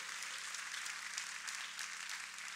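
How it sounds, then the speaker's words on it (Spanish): Faint, continuous applause from a church congregation, a soft even hiss of many hands that sounds distant and low in level, with no voices over it. "Dar un aplauso al Señor"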